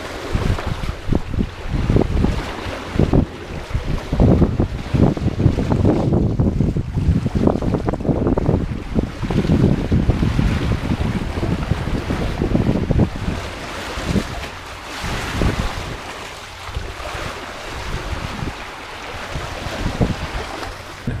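Steady wind buffeting and rushing water from a sailboat heading upwind, constant and loud throughout with surging wave splashes, no voices.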